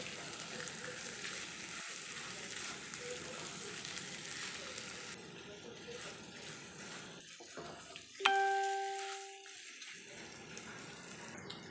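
Chicken pieces sizzle steadily in a hot pan with oil for a chicken makhani handi, a dense crackling frying hiss throughout, with a brief clatter of stirring and a short tonal ring near the end.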